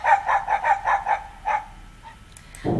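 A dog barks about seven times in a quick, fairly even series, then a short pause and one or two softer yips, with a brief low rustle at the end. No one speaks over it.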